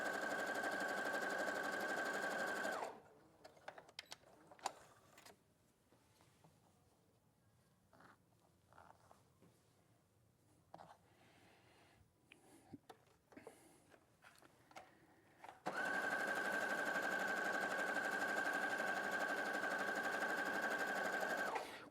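Sewing machine stitching patchwork rows together with a quarter-inch seam, a steady loud run at the start and again near the end, with a quieter stretch of handling and small clicks between.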